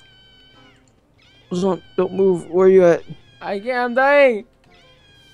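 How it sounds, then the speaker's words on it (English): A character's voice lets out whiny, cat-like meows in a few short bursts, mixed with people talking. "He sounds like a cat."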